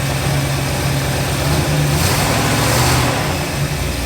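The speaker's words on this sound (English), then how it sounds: "Let's give it a little bit of revs here." A Pontiac Firebird engine, just after a cold start, revs up loudly and close, rising and falling in pitch over a rough, steady idle.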